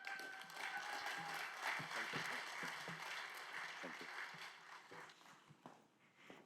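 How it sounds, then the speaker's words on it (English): Steady applause from a large audience fills the room, continuous clapping that swells and then gradually tapers off. "Please join me in giving a round of applause for Dr. Pursula."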